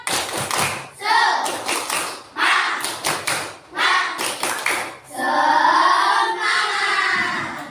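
Classroom group performing the Indonesian tepuk semangat clapping chant, with sharp, rhythmic bursts of claps interleaved with shouted chant lines, ending in a long loud cheer; voices join the clapping throughout.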